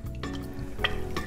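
Mayonnaise and sour cream being stirred in a warm pan, with soft scraping strokes and light clinks of a utensil over a faint, steady background.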